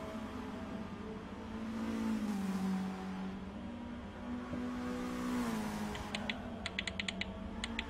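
Race car in a sim racing game, engine holding high revs with a steady droning pitch that rises and dips slightly, moderately loud, with brief keyboard-like clicks near the end.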